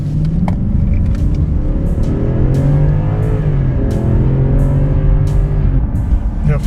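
Big luxury car in sport mode pulling hard onto a main road, a steady loud low engine rumble with rising harmonic sweeps as it accelerates through gears, continuous throughout.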